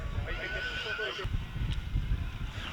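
A horse whinnies at the Bantry agricultural show, a clear rising-and-falling neigh up front, followed by low rumbling crowd noise and trampling, with people talking nearby.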